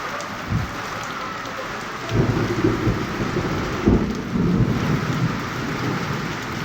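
Heavy rain pours steadily across the whole stretch, a dense hiss close by, with low rumbles of thunder rolling in and swelling midway. No one speaks.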